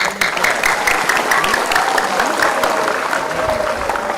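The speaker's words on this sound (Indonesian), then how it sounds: "Tepuk tangannya." A crowd at an outdoor Scout Day ceremony in Tegal claps loudly and continuously for several seconds, with faint voices and sound-system tones underneath.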